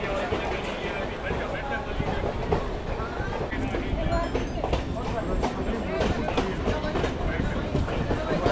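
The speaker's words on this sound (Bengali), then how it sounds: "দেখো আমার ট্রেন যাচ্ছে" Jhajha MEMU passenger train pulling away from Madhupur Junction platform, a steady rumbling roll with rail clatter, carriage noise and wind buffeting throughout, with a voice speaking over it.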